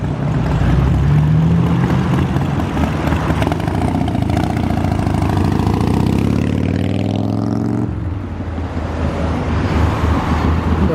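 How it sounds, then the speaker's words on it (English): A noisy motorcycle engine rumbles loudly along a city street, a steady close roar that rises in pitch as it passes and then drops away after about eight seconds, with traffic noise continuing. "Noisy motorcycle."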